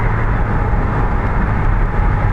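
A Cessna 172 engine drones loud and close with carb heat on as power comes back to 1500 rpm, a steady, dense rumble with no break.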